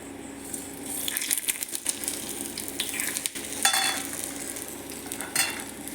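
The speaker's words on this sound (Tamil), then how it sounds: "தாளித்து கொட்ட போகிறேன்." Whole spices tempering in hot oil for pepper pongal made in a pressure cooker, a steady crackling sizzle with sharp popping bursts and faint scraping of a spoon, close and continuous throughout.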